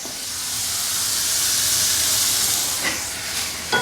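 Steady sizzling hiss of food frying in a hot pan, a bright continuous crackle with a few sharper pops near the end, close and fairly loud with no voices.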